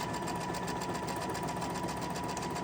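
Sewing machine running steadily as it stitches fabric for a summer table runner at a quarter-inch seam, a continuous close mechanical whir and rapid needle hum with no talk.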